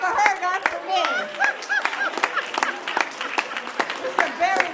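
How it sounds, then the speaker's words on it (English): A conference audience claps in scattered, lively bursts, with voices and chatter rising over and between the claps. "You clap for her, not for me."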